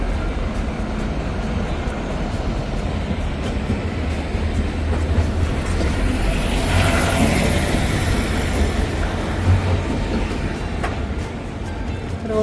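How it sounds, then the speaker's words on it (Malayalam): An Edinburgh tram rolls past on a busy evening street, a loud sustained rumble that swells to a peak midway and then eases, with city traffic noise around it. "നമ്മുടെ ട്രാം പോകുന്നു."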